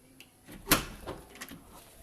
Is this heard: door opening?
yes